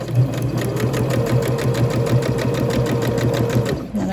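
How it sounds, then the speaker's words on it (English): Sewing machine stitching silk fabric for a petticoat, a steady rapid run of needle strokes with a low motor hum throughout, close and fairly loud, stopping abruptly near the end. "Then I sew a little bit."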